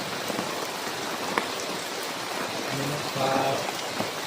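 Steady rain falls outdoors, a constant close hiss of drops on surfaces, with a person speaking briefly over it.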